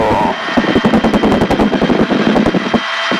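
A UH-1B helicopter in flight gives a loud, close, steady thumping of rotor blade slaps in quick rhythm over turbine whine, with no talk.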